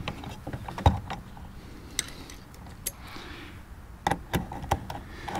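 Close, small mechanical clicks and ratcheting taps come from screws being driven into a front license plate bracket on a Challenger Hellcat, with irregular sharper knocks over a low background hum.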